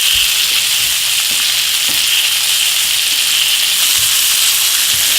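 Pork browning in a hot pan, a loud, steady sizzle and hiss of frying with occasional soft stirring or pan knocks, close and continuous.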